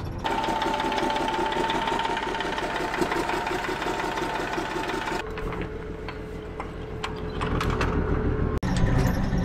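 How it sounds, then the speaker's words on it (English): A Steiger tractor with several exhaust leaks runs steadily up close, its engine chugging with a rough, uneven mechanical rattle that continues throughout with no talk. "This guy's got an exhaust leak or three."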